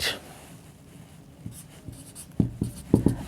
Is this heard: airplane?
no